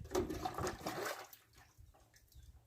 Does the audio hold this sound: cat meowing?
no